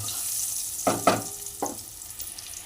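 Potato pieces sizzle in hot oil in a home kitchen pan, a soft steady crackle with a few sharp clattering stir or scrape sounds standing out near the middle.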